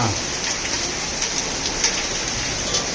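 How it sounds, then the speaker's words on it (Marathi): Heavy monsoon rain pours steadily in Udgir, India, in a dense, loud hiss, with drops pattering on surfaces throughout. "उदगीर येथे मुसळधार पाऊस पडत आहे"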